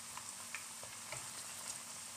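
Potatoes fry in hot oil in a home kitchen, giving a continuous, even sizzle with small crackling pops throughout, close and alone without any voices.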